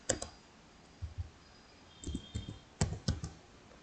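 Keys clacking on a computer keyboard as a birthday party event name is entered into a catering management system, in short bursts of a few quick taps separated by pauses, close and clear with no talk.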